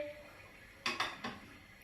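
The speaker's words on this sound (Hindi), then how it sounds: "और अब हम कुकर बंद कर देंगे तकरीबन 10 मिनट के लिए" Pressure cooker lid being closed while cooking mutton nihari, three quick faint metallic clicks and clanks in a row, close by in a quiet kitchen.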